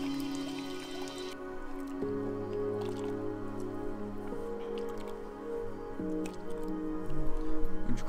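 Water drips and trickles during a shower at a jungle camp in Malaysia's old rainforest, a quiet, close, wet splashing and dribbling with soft irregular drops and no talk.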